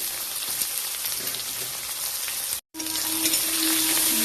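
Chopped garlic and onion frying in a pan for a goat meat curry give a steady, close, rain-like sizzle and crackle that breaks off for a moment and then resumes, with no one speaking.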